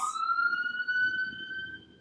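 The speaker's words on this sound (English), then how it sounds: "There's a siren going by." An emergency siren passes by outside, its steady wailing tone gliding slowly upward for about two seconds, fairly loud over a low rumbling background.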